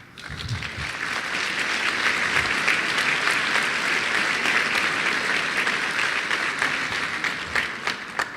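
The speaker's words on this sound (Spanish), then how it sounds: "así que démosle un aplauso" A crowd applauding at a public accountability event in Talca, dense and sustained clapping that swells quickly and holds steady for several seconds before thinning slightly at the end.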